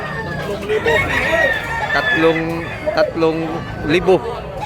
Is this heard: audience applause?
no